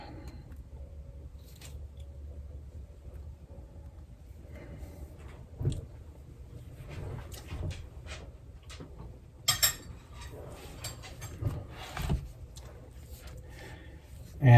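A spoon works through spice cake in a bowl, giving quiet scattered scrapes and a few sharper clinks against the dish, close but faint, spread irregularly across a quiet kitchen.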